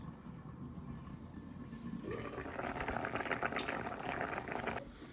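Creamy Tuscan chicken sauce with cherry tomatoes simmers in a pan, a soft, quiet bubbling hiss that grows fuller and busier midway, then eases slightly.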